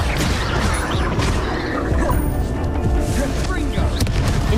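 Blasting spell impacts crash and boom in Hogwarts Legacy, a dense run of loud smashing hits layered over busy combat noise with a voice speaking throughout.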